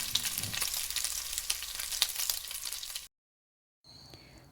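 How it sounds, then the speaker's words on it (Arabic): Zucchini sizzles hard in hot frying oil, a bright continuous crackle up close for about three seconds before a brief silence and a quieter return. "وهيك استوت الكوسة معي، وصلتها للون المطلوب، ورح بلش طلعها من الزيت"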